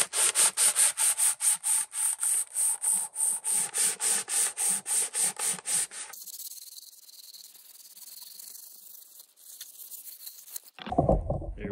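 A homemade wooden Wincharger wind-turbine blade being sanded by hand: steady, rhythmic back-and-forth rasping strokes, close and fairly loud for about six seconds, then fading into a softer hiss and a brief knock at the end.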